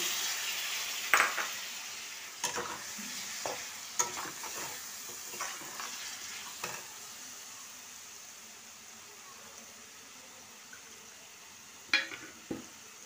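Tomato chicken with sugar and yogurt is stirred in a pan: a soft sizzle runs underneath as a spoon scrapes and knocks the metal in scattered strokes, then the sound eases toward quiet.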